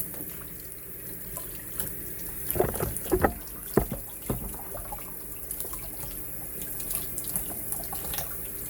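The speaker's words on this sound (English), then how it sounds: "let's rinse him off and see how he looks" Running tap water pours into a sink as a toy is rinsed off under the stream. It is a faint, steady trickle with a burst of louder splashing in the middle as the toy passes through the flow.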